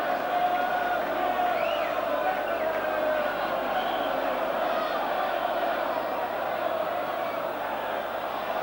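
Travelling West Ham fans at a 1990 League Cup semi-final away at Oldham roar as a corner is won, a dense, steady crowd din with loud whoops and shouts rising throughout.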